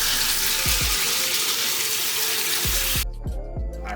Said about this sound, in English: you can just hit it with a little bit of cold